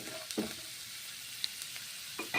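Peanuts frying in hot oil in a home kitchen, cooked before cabbage goes into the pan; a soft, steady sizzle with a few sharp crackles and pops, no voices.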